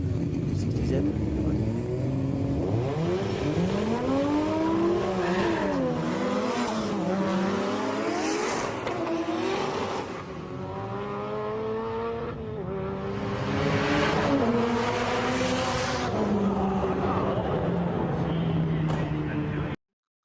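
An SR20-powered car on a drag run, engine rising and falling in pitch through repeated gear changes, loud and close throughout with a continuous harmonic roar.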